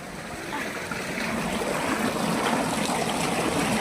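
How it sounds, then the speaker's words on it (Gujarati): Borewell water rushes steadily through a pipe coupling on a farm, a continuous close gurgling flow that holds even and grows slightly louder over the few seconds, with no other sounds. "તો કપલિંગમાં પાણી જાય છે."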